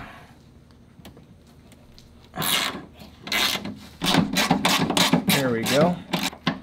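A ratchet wrench clicks in quick rapid bursts while loosening the door bolts on a third-generation Camaro, close and fairly loud, with a person talking over the ratcheting.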